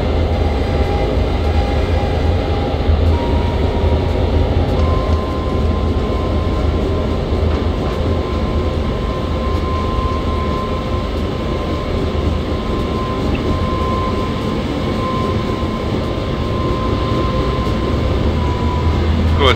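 Train running in the Trainz simulator video game: a loud, continuous rumble and rolling drone that holds steady throughout, with faint tonal whines layered over the rail noise.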